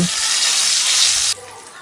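Food fries in hot oil with a loud, dense sizzling hiss that cuts off sharply partway through, leaving a quieter, fainter sizzle.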